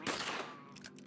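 Gunfire from a weapon aimed at a penguin in the Sword of the Stars: The Pit video game, a short dense burst of shots at the start that fades into a ringing tail, with a few faint clicks afterward.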